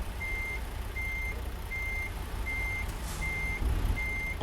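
An International 9400i truck in American Truck Simulator backs up to a trailer, its reversing alarm sounding six evenly spaced beeps over a low diesel idle, with a brief thump near the end.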